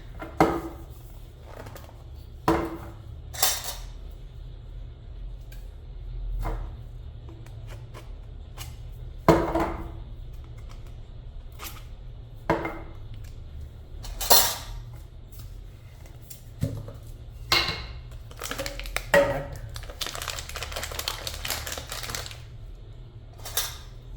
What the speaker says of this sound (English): Now I'll open this coffee